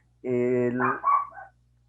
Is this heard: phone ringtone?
no